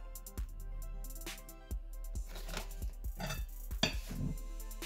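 A spoon mixing sugar water for glue-free slime, giving light, irregular clinks and taps against a container, close but fairly quiet over a steady low hum.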